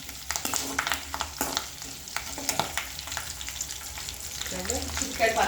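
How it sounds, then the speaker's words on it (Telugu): Seeds crackle and splutter in hot oil in a pan while gongura chutney is being made, with irregular pops over a steady sizzle, close by. "చిట్టాలు పట్టాలు అంటున్నాయి"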